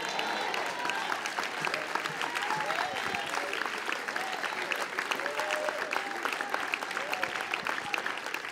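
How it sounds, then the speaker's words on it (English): A church congregation claps and shouts during a sermon, dense sustained applause with scattered cheers and voices filling the room continuously, loud and close. "seeing some of these people clapping and shouting and raising their hands"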